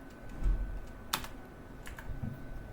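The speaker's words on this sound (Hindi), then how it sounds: "अब आप एंटर प्रेस कर दीजिए।" A single keypress on a computer keyboard, one sharp click near the middle, close and fairly quiet, over faint room noise with no talking.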